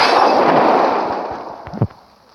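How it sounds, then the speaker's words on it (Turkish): A Molotov cocktail thrown in a modded video game bursts into a loud roaring whoosh of flame that slowly fades, with a sharp short pop near the end before the sound dies away. "Molotof gerçekten güzel olmuş. Böyle fırlatıyorsun orayı yakıyor."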